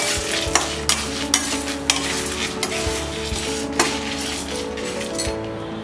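Lentils and dried red chilies frying with a steady sizzle while a spoon stirs and scrapes the pan, with occasional clinks of metal against metal.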